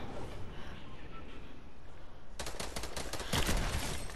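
Gunfire erupts in a Fortnite match, starting as muffled background noise and then turning into rapid, loud bursts of close shots that continue to the end.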